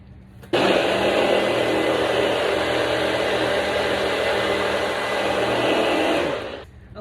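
A blender mixes a fruit smoothie of apple, pineapple and banana with orange juice and water. Its motor starts abruptly and runs as a loud, steady whir for about six seconds, then winds down.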